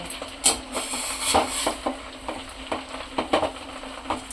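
Pieces of salted dried fish are stirred in a pot of heated water, giving a run of repeated close scraping and knocking strokes over a soft bubbling sizzle, with no voices.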